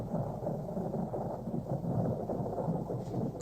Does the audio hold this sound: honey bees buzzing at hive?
no